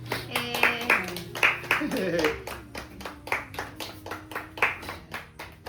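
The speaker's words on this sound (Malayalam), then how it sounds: "കൈയടിച്ചെല്ലാരും" A small group claps in quick, uneven bursts right after a Christmas cake is cut, the hand claps close and crisp, with a voice speaking over them at the start.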